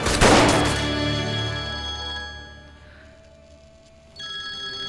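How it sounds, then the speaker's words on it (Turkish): A telephone rings unanswered in a tense drama scene: a loud bell ring that slowly fades out, a short quiet gap, then the next ring starting up near the end. "Hadi be kardeşim, hadi be aç şu telefonu pilot."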